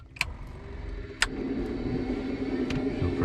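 A small propeller plane's engine starts up: a few sharp clicks, then the engine catches and builds to a steady, growing drone, heard close and without talk.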